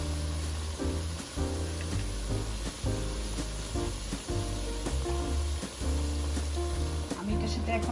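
Meat added to a red spice paste fries in a pan with a constant, fairly loud sizzle, while background music and a voice run underneath.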